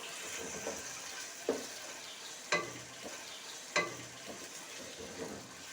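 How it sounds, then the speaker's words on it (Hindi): Small chicken cubes frying in a pan with a soft steady sizzle, punctuated by a few scraping stirs, quiet and close with no talk. "300 ग्राम हमारे पास चिकन है, ये हम शामिल कर लेते हैं।"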